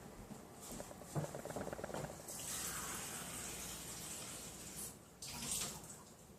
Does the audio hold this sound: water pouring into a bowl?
yes